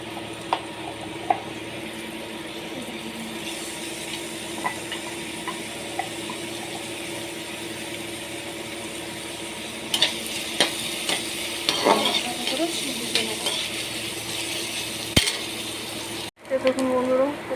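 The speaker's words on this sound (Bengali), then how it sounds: "দেখুন বন্ধুরা, রসুন পেঁয়াজ ভাজা হয়ে গেছে," Crushed garlic and chopped onion fry in a pan with a soft, even sizzle, broken up by scraping stirs and small metallic clicks and clinks that grow busier toward the end.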